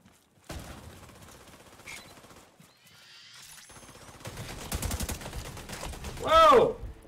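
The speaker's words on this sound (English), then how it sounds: "Whoa! That a turret? I think that's a turret." An automated turret fires in The Division 2, with rapid dense bursts of gunfire building over several seconds and a loud exclaiming voice at the end.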